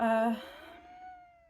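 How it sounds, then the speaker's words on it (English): A cat meows once, drawn out and tapering off, heard just after a voice briefly cuts off at the start. "that's my cat Tills."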